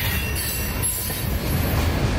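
A freight train of boxcars, empty tank cars and empty auto racks rolls past close by in Lakeland, Florida, a steady loud rumble of wheels with squealing metal and clatter, no voices.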